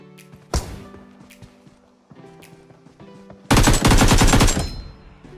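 Gunfire in the mobile shooter Game for Peace, the Chinese version of PUBG Mobile: a few single sharp shots, then a loud, rapid automatic burst lasting about a second near the end, with quiet game ambience between.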